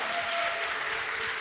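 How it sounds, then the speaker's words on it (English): Audience applause at a live beatbox and creative arts festival event, a steady sustained wash of clapping from a crowd, fairly loud and continuous. "round of applause, round of applause."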